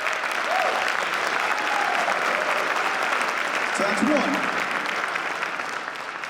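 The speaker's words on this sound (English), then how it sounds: "Can we give them a huge hand of applause?" Crowd applause at a mayoral inauguration ceremony, a dense, sustained clapping from many hands at steady volume that gradually fades near the end, with a brief voice speaking under it.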